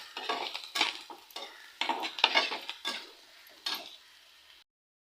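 Onions sautéing in a pan for chicken gravy, stirred with a utensil in a series of scraping, sizzling strokes that come in uneven bursts and stop abruptly near the end.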